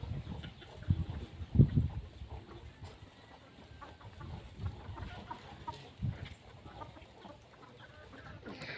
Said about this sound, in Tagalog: Kakain ng mga native na manok dito.